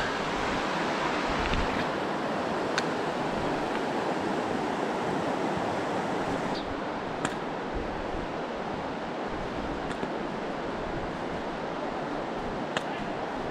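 River water rushes steadily through the Narrows in Zion National Park, a dense, continuous roar that stays loud throughout, with occasional faint clicks over it.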